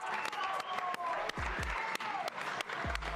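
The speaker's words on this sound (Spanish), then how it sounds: "Un aplauso, por favor, para los dos." Crowd clapping for two boxers at a face-off weigh-in event, a dense applause wash punctuated by several sharp low thumps, with voices faintly mixed in beneath the clapping.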